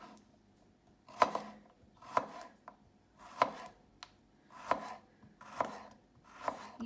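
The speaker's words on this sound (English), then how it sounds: "Now we're going to dice up the rest of the veg into really small pieces" Knife dicing vegetables, courgette among them, into small pieces on a chopping board for pasta sauce: steady, evenly spaced thuds of the blade, about six firm chops, close and clear, with no talking.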